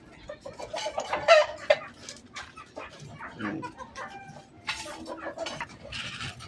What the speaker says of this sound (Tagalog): Ang buti pa yung manok, may palahi.